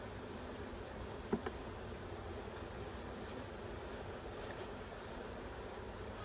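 Honeybees being shaken from a nuc into a hive make a faint, steady hum against quiet background hiss, with one soft thump near the start.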